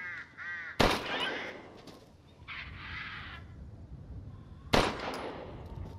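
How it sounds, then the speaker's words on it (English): A crow in the horror game Resident Evil Village gives two harsh caws, several seconds apart, each one close and sharp over a low, murky ambient drone. "there's a crow there that I want to kill"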